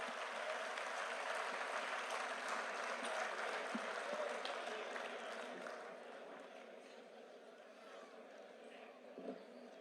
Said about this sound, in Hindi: एक बार जोरदार तालियां पंडित के लिए बजा दीजिए